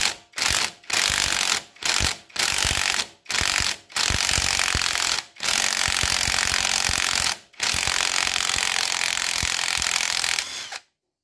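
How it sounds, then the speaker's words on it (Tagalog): A pneumatic impact wrench with a 17mm socket hammers a bolt on a timing gear puller while servicing a Rusi 175 motorcycle, running in loud rattling bursts separated by short pauses and then one long sustained run before stopping. "Gamit po ng ating impact wrench at 17mm na socket wrench ay ating higpitan ang bolt ng timing gear puller."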